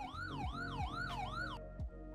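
Ambulance siren in the ER:LC Liberty County game, a loud wailing tone sweeping up and down in steady cycles close by, then cutting off abruptly with low vehicle rumble continuing.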